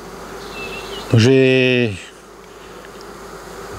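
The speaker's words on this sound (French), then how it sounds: "Oui, il reste des abeilles sur la branche." Honey bees from a swarm on a tree branch buzz all around, giving a faint, continuous background drone. A louder, close buzz rises for about a second, and someone speaks briefly.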